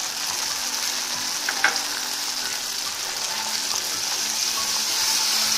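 Tomato, ginger and green chili paste frying in a pan for a potato curry, a dense continuous sizzle that stays close and steady, with one small utensil tap midway and no voices.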